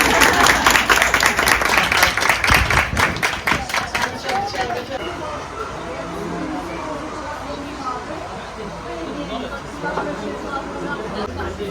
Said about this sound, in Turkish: Bu arada alkışlar için çok teşekkür ederim.